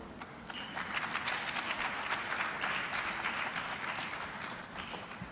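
Steady applause from a sizable conference audience, a dense wash of many hands clapping at an even level throughout, with no talking over it.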